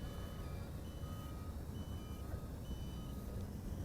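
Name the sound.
drone low battery warning beeping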